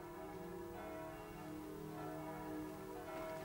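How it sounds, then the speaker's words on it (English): Church bells ring for Vespers, faint and distant, with overlapping tolls droning together in a steady, hazy wash. "I'm sick of the sound of bells."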